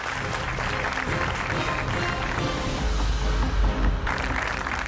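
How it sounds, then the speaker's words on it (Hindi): Studio audience applause on a televised Hindi political debate show, dense steady clapping filling the whole stretch at moderate loudness with a low rumble partway through. "तो जोरदार तालियां"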